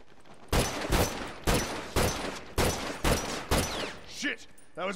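Game gunfire in The Last of Us Factions online match on the High School map: about six sharp, loud shots in an uneven rhythm, each with a short ringing tail, followed by fainter clatter at the end.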